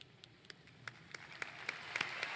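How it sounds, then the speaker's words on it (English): Audience applause for Washington State University faculty, staff and administrative personnel at a university ceremony, starting as scattered individual claps and swelling into a denser, building round of clapping from a large crowd at moderate distance. "Big round of applause, please."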